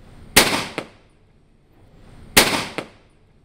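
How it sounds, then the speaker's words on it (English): Shotgun fired at helium balloon targets outdoors: two loud, sharp reports about two seconds apart, each followed a beat later by a quieter secondary crack. "As you can see or hear, there is no delay of the shot to the target."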